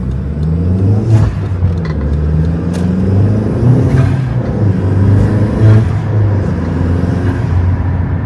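A turbocharged car engine revs through a cold air intake with a steady low rumble and rising whooshing intake noise under boost, loud and close, swelling and easing in repeated pulls.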